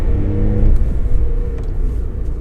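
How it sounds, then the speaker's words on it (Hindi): A Volkswagen Ameo engine revs up under acceleration in second gear, a loud close rumbling rise in engine pitch that eases off and builds again, heard alone. "अब जैसे ही दूसरे गियर में क्रॉल कर रही है, एक्सेलेरेटर मैंने दबाया, गाड़ी फटाफट लेके जाती है आरपीएम को"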